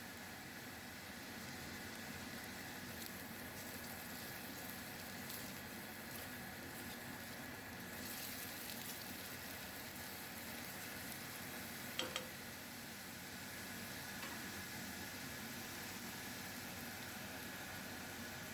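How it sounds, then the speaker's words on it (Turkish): An onion browning in three tablespoons of olive oil gives a steady, even sizzle with a faint hiss, continuous and close throughout, with a brief clink near the middle. "dinlenirken bir adet soğanımızı güzelce kavuruyoruz"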